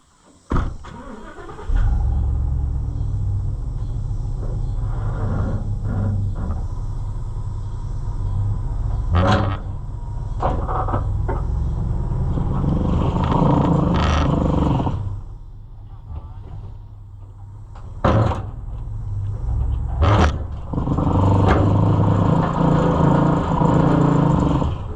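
A pickup truck strains to pull a Keck & Gonnerman threshing machine off a dolly, its engine rumbling steadily with chains clanking and metal knocks, the revving dipping and swelling over about twenty-five seconds without talk.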